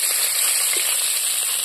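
Fish frying in hot oil for a curry, a short continuous hiss of sizzling, fairly loud and steady with no talk.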